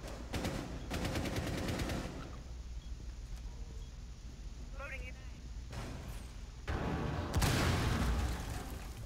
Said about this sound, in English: They just blew a murder hole into the A site from the hatch